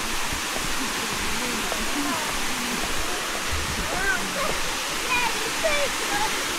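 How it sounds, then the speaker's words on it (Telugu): A small waterfall in a forest rushes with a steady, dense roar that stays loud and unbroken throughout, with faint higher trickles over the constant wash of falling water. "You can see the waterfalls here."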